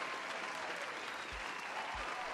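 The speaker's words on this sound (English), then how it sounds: "let's give our dear Sponge a round of applause" A small audience at a homebrew review gives a brief burst of clapping, a steady, close patter lasting only a couple of seconds.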